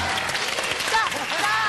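Studio audience on the Chilean TV game show Vértigo applauding, a continuous wash of clapping with a voice talking over it throughout.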